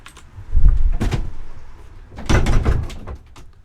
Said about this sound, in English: my door blowing open